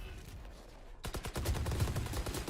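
Rapid automatic fire from the Ares machine gun in the video game Valorant, a dense run of close, loud shots that starts suddenly after a brief quieter lead-in and keeps going to the end.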